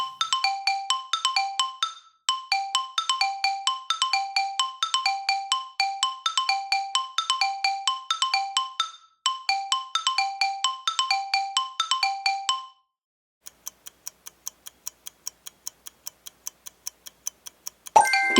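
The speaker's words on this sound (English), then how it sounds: "It's a xylophone." Bright tuned bar percussion, a xylophone, plays quick repeated melodic runs in steady rhythm, alone and fairly clear, then thins to sparse single high notes before a short burst at the end.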